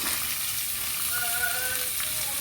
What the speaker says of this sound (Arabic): نحط البصله اديها تشويحه بس كده حبايبي